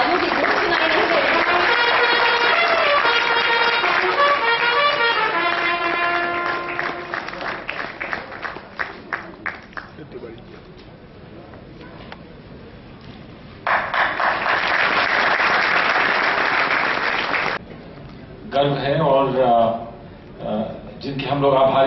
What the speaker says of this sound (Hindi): जोरदार तालियों के साथ इनका अभिनंदन कीजिए।